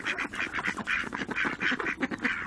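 Birds in a kept bird collection call in quick repeated bursts, harsh quacks and honks like ducks and geese, loud and close, overlapping in an irregular rhythm with no speech.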